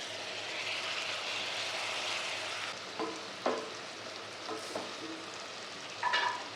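Tomato pieces dropped into a hot pan of sizzling oil while cooking aloo rice, a steady frying hiss with a few sharp crackling bursts partway through and again near the end.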